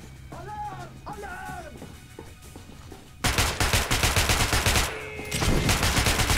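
Rapid gunfire in the first-person shooter Metro: Last Light, a burst of loud automatic shots with a rhythmic crackle after a brief voice, continuing with heavy repeated bangs and echo.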